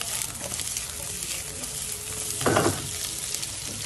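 Chili and ginger fry in a pan for Ilocano imbaliktad, a steady close hiss of sizzling with a brief louder scrape of stirring partway through.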